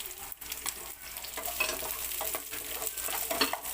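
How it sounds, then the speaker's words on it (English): One chopped onion sautés in a hot pan for a Filipino beef steak tagalog, giving a steady close sizzle broken by the scrape and clatter of stirring. "Now we can add our chopped onion"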